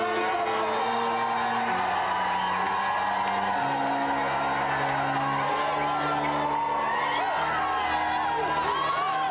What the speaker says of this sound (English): let's have a round of applause for both our guests today, Vinnie Jones.